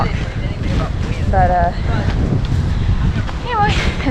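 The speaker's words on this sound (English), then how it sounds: "anyway, it's windy. It's just been windy ever since last night or yesterday afternoon" Strong wind gusts roar steadily over the microphone outdoors on the Appalachian Trail, a constant loud rush with someone speaking briefly over it.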